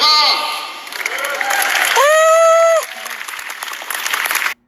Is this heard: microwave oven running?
no